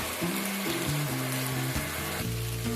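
Poppy seed paste ground with green chillies hits potatoes and ridge gourd in a hot pan, giving a steady wet sizzle and hiss that runs throughout beneath sustained background music tones.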